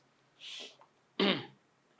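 A person coughs twice, a short breathy burst followed by a louder, harsher one, caused by plaster of Paris dust, with a quiet pause between them.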